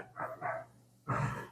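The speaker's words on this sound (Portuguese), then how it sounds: "Mas ele fica na varanda lá e qualquer coisa que passa ele está latindo" A small fluffy poodle-type dog barks from a home porch: two quick barks, a pause, then a third louder bark, fairly close and with no talk.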